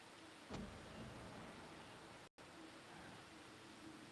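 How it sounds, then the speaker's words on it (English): Heavy rain falls in a steady, even hiss throughout, with a faint low rumble underneath and a brief break in the middle. "Wow, it's really raining."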